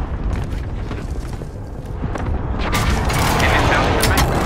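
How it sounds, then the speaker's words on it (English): Video game airstrike called in on a target: a dense, roaring barrage of blasts that builds from a steady rumble into a louder, sustained wall of booms over the second half. "Airstrike for Nova."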